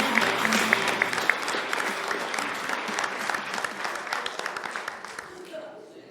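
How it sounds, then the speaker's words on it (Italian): A crowd applauds an Under 14 youth team, a steady burst of clapping with a voice over it that fades away toward the end. "facciamo un applauso all'Under 14."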